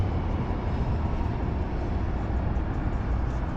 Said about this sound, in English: That's a northeast train heading into downtown.